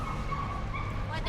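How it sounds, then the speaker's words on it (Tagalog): A dog yips and barks briefly in the background outdoors, near St. Ignatius Church in Rome, with a couple of short high calls over ambient street noise and voices. "Aso."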